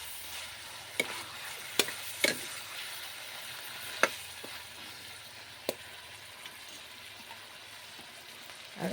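Chicken pieces fry in oil in a pan, giving a steady soft sizzle broken by several sharp spatters and pops. Fairly quiet and close, with no talking.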